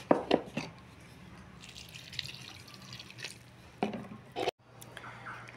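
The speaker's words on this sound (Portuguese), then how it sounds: "Vou colocando água de pouquinho para poder não ficar mole." Water added a little at a time to mortar being mixed for desert rose planters, giving wet drips and squishy splashes in a few short bursts with quiet pauses between.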